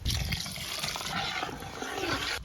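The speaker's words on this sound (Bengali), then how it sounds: "গরম পানি" Hot water pours steadily into a pot of pulao with fried rice, onion, chili and milk, a continuous splashing stream.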